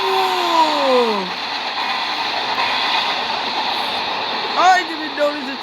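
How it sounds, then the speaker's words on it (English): A fast freight train rushes past, its loud steady roar filling the clip, with a descending horn-like whistle at the start and another near the end as it passes. "I didn't notice the train would come this fast."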